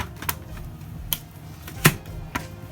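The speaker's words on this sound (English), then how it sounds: "We're gonna go ahead guys and cut up our beetroot. Should be doing this on a cutting board." A knife cuts beetroot on a cutting board, giving four sharp, separate taps spaced unevenly over a quiet background.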